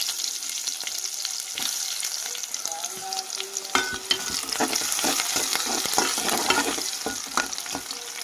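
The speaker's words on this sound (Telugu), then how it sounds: "ఉల్లిపాయలు అయితే బాగా ఫ్రై అవుతా ఉన్నాయి." Onions fry in hot oil with tempering spices and green chillies in a home kitchen, a steady close sizzle with scattered crackles and spoon-stirring scrapes throughout, no voices.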